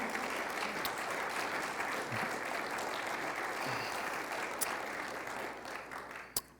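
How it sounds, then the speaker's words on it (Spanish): A church congregation applauding during a Spanish-language sermon, an even wash of clapping from many hands over several seconds, fairly distant and quiet, fading slightly toward the end. "Dale un fuerte aplauso al Señor."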